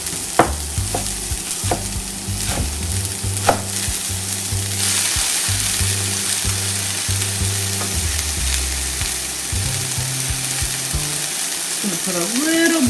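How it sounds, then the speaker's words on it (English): Beet greens sizzling loudly in a hot oiled pan, a continuous close crackle broken by repeated scraping strokes and knocks from stirring, with no talk. "anytime you're cooking greens, they shrivel up quickly in the heat."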